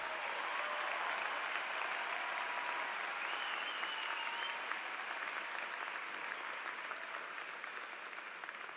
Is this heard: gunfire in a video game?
no